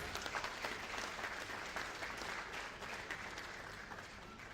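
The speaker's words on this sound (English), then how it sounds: "Please let us give them a warm round of applause" A warm round of applause from the audience at an entrepreneurship lecture in Lagos, dense and even clapping throughout, fairly distant and soft, slowly thinning toward the end.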